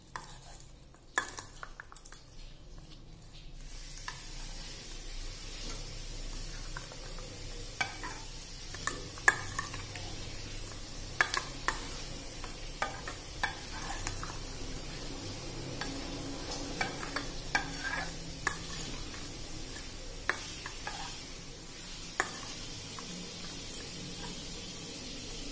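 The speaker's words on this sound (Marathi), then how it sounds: "आता हे सर्व जिन्नस आपण एकत्र करून घेऊया" Chana chaat ingredients (black chickpeas) being stirred and mixed together in a pan, a steady scraping and clinking of a spoon against metal with faint sizzling underneath, continuous and fairly quiet throughout.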